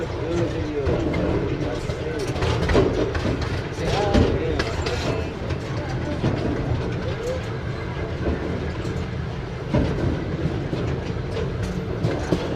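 Steady rumble and rattling clatter of a small zoo train rolling along rails at San Antonio Zoo, continuous throughout, with people talking faintly in the background.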